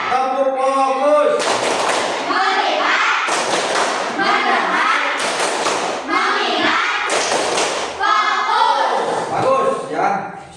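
Children in a classroom perform a group clap routine, several loud bursts of clapping recurring in a steady pattern with children's voices and talk between them.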